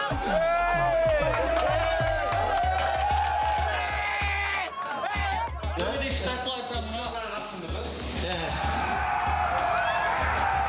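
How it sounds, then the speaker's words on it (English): Large crowd gathered on Bondi Beach, loud and continuous, with cheering, clapping and scattered shouts over a steady low rumble, voices close by throughout. "it was an even bigger crowd"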